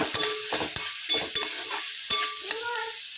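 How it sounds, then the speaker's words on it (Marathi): Softened onions frying with a teaspoon of turmeric are mixed in a pan over a lowered gas flame. Sharp, close spoon scrapes and taps come in quick bursts over a continuous sizzle, with no voices. "आता मस्त एक टीस्पून अशी हळद टाकून घ्यायची आहे मिक्स करायची"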